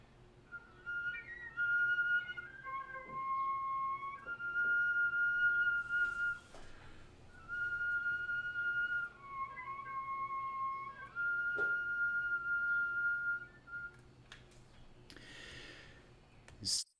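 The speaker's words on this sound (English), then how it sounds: "moving between notes with whistle tones is really, really tricky" Flute whistle tones: thin, pure high notes held and stepping between pitches in a practice setting, several sustained tones separated by short breaths, close and fairly quiet.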